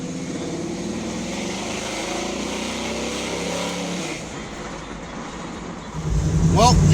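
A car with a newly fitted radiator rolls along on its first cruise of the season, a steady engine drone and road rumble that dips partway through and then swells louder as it picks up speed.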